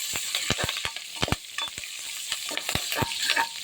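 Green chillies and curry leaves fry in a pan, giving a soft, steady sizzle broken by sharp, irregular clicks and scrapes of a spatula stirring them.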